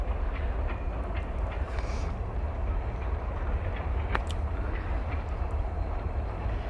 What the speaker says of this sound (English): After the train goes by